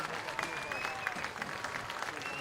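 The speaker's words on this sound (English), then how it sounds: "And you can hear this Loretto crowd as they come to their feet" A high school baseball crowd at a state championship game cheers and claps as fans rise to their feet, a continuous roar of applause and shouting with a whistle-like tone riding above it.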